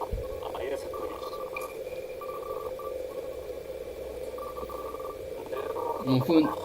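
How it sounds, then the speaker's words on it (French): A phone rings in a visual novel game: a steady repeating electronic ring with regular tone bursts over quiet background music, with brief talk near the end. "Mon téléphone."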